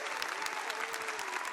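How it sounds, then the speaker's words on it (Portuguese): Congregation at a church family-vocation talk breaks into sustained applause, dense, steady clapping throughout with no voices over it. "Então nos dá uma salva de palmas para Jesus maravilhoso."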